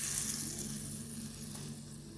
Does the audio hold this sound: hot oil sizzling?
yes